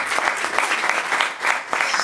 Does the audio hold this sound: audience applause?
yes